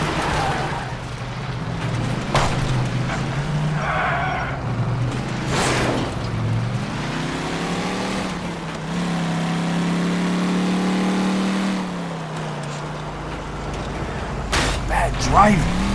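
A car driven in L.A. Noire: steady engine drone with gear-like pitch sweeps as it accelerates and settles, tyre and road noise underneath, a few brief bumps, and a voice talking intermittently over it.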